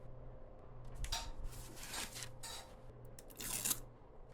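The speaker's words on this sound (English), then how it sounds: "Let's take the cellophane out of the printer." Cellophane wrapping peeled off a new HP OfficeJet Pro 9015e printer during unboxing, with several quiet crinkling, rustling bursts close by and a louder rustle near the end.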